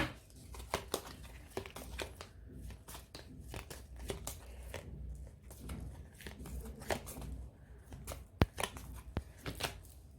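Tarot cards are shuffled and drawn by hand, giving a steady run of crisp riffling snaps and papery slides. The sounds are close and fairly quiet, with only brief bits of speech.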